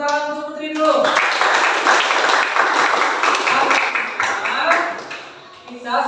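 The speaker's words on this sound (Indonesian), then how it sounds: "Tepuk tangan untuk Putri dulu." Students in a classroom clapping for a classmate during a lesson, a short burst of mixed handclaps lasting several seconds after a teacher's voice, tapering off as talk resumes.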